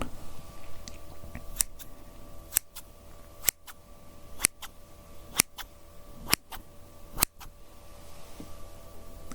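Crisp scissor snips cut one at a time in a quiet room, about eight sharp, close clicks spaced roughly a second apart over a faint steady hum, with no talking.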